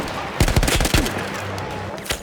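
A mounted machine gun in a Battlefield 1 World War I battle fires a loud, close burst of rapid rattling shots that trails off into a lingering rumble, with one more shot near the end.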